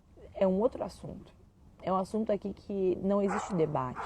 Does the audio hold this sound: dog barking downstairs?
yes